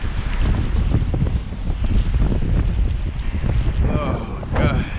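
Strong wind buffets the microphone out on open tidal water, a loud, steady roar with gusty surges and a few small knocks throughout.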